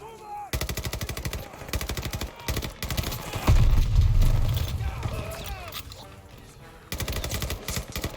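Rapid machine-gun bursts rattle in Call of Duty: Vanguard, loud rhythmic automatic fire in several long strings with a heavy explosive rumble in the middle, while someone talks over the shooting.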